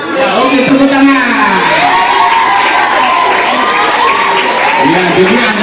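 High school students from SMA Negeri 1 Kota Binjai cheer and shout loudly together as a group, with a continuous crowd roar, whoops and some clapping filling the whole stretch.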